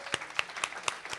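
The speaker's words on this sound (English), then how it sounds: "Big hand of applause for yourselves." A few people clap at a faculty presentation event, sparse separate claps about four per second, faint and distant in a quiet room.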